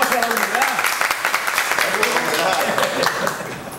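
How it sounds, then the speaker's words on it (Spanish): Applause breaks out at a union press conference, a room of people clapping steadily while voices talk and call out over it, fading slightly toward the end. "¡Un aplauso a la unidad!"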